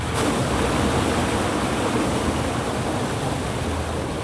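A fast-drop helicopter fire-suppression bucket from Absolute Fire Solutions releases its water in a steady, loud rushing roar that pours continuously throughout, with no speech.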